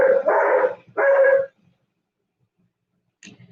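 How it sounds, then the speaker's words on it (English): A neighbor's dog barks outdoors: two loud, close barks in quick succession, then a brief silence before one fainter, short bark. No one speaks. "my neighbor's dog is barking anyhow"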